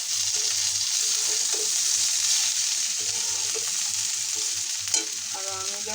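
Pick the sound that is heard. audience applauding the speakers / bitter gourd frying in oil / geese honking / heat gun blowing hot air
bitter gourd frying in oil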